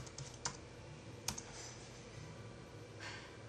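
A computer keyboard is tapped softly and close by while a search term is entered, giving a few distinct clicks over a quiet background hiss.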